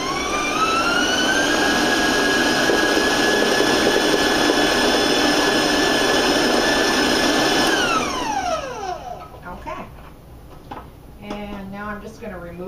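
A stand mixer with a paddle runs at high speed, a loud steady whine with a rising tone that holds, then winds down and stops near the end, followed by quieter clattering.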